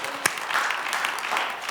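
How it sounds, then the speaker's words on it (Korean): Church congregation clapping during a New Year revival service: brief burst of lively, dense applause with one sharp clap at the start, steady throughout. "할렐루야. 박수 올립니다."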